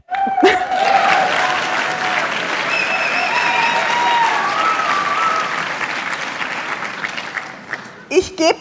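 Audience applause fills an opening plenary session of the Degrowth 2014 conference, a dense sustained clapping from a large crowd that holds steady for about eight seconds, with a few voices calling out over it, then cuts off sharply.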